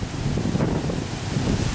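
Strong wind during a hurricane-season storm in New Orleans, a dense continuous roar and buffeting rumble hitting the microphone with no pauses, loud and close.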